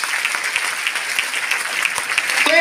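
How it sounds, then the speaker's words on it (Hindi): Loud, steady applause from a DXN success-story audience, dense clapping with occasional sharper individual claps, sustained throughout and swelling slightly at the end. "जोरदार तालियां।"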